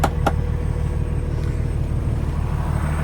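A 2017 Kenworth T680 truck with a Cummins ISX engine idles close by, a steady low diesel rumble running throughout after a couple of brief clicks at the start.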